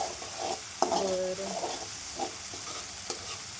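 Onion paste and coriander fry in hot oil for a tadka, a soft steady sizzle with a few scrapes and taps of a stirring spoon against the pan, close by.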